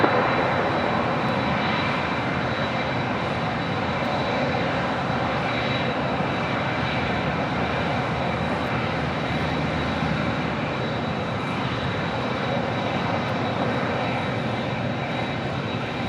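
A large heavy jet lands on runway 25 left at Los Angeles International Airport, its engines producing a steady, broad roar that holds at constant loudness throughout, distant and unbroken.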